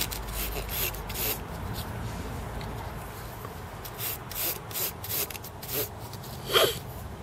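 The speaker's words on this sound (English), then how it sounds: "I am just going to just gently clean with the fiberglass pen here." A fiberglass pen scrubs gently at chip socket pins on a Commodore Amiga A500 board, giving faint, soft scratchy strokes in short irregular bursts against a quiet background.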